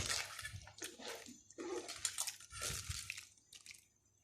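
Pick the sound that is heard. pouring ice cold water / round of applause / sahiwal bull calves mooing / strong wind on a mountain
pouring ice cold water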